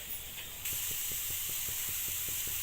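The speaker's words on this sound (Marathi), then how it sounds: "मी आता कांदा टाकला तव्यावर भाजण्यासाठी" Onion roasting on a hot tawa makes a steady, bright hiss that jumps louder after a moment, with faint regular ticking crackles pulsing beneath it.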